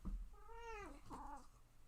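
A female pet cat named Kiki gives two clear, close meows in quick succession, the first long and rising, the second shorter, with no talking over them.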